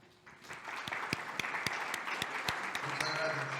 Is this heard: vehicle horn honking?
no